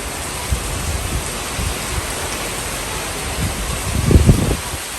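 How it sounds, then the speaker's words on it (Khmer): Steady, heavy rain hisses continuously in Banteay Meanchey province, Cambodia, with occasional low rumbling gusts of strong wind that grow stronger near the end. "ភ្លៀងឡើងដក់ទឹក"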